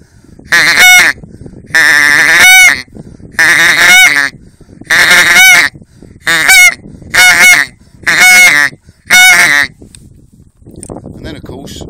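A wildfowling call is blown to mimic a greylag goose's honking grunt: eight loud, close, nasal honks in rhythmic bursts, some long and some clipped, followed by a quieter stretch at the end.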